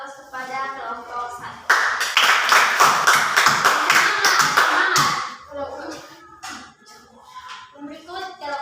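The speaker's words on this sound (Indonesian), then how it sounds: "Saya sedang memberikan aplaus kepada kelompok" A class audience applauds a presenting group, a burst of many hands clapping that lasts around three seconds, with speech before and after it.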